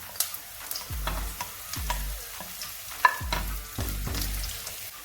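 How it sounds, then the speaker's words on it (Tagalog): Garlic sautés in a pan with a continuous crackling sizzle, broken by repeated soft knocks and scrapes from stirring that come in an uneven rhythm, close and moderately loud. "Lagyan naman natin yung bawang natin kanina."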